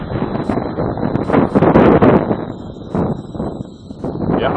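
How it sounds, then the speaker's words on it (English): Heavy wind buffets the microphone outdoors during a flight of a HobbyKing mini B-17 RC plane in strong winds, a loud continuous rumbling roar that surges and dips. "The wind is actually picking up."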